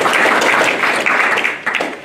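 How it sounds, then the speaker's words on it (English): An audience applauds a congressman at a policy event on CFIUS reform, a loud, dense wash of clapping that holds steady before tapering slightly at the end. "Please join me in thanking Congressman Barr"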